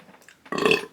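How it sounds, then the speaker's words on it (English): A single loud, close burp rumbles out for under half a second after a taste of hot sauce, heard alone with no talking. "A little bit of a pepper burp there."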